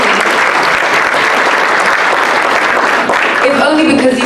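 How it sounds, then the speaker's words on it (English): An audience gives loud, steady applause for a Deputy Speaker at a conference, the clapping close and continuous, with a voice starting to speak near the end. "I think our Deputy Speaker deserves another round of applause."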